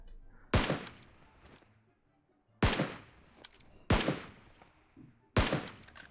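Four loud, sharp gunshots ring out one at a time in PUBG Mobile play, each followed by a short decaying echo, with quiet gaps between them.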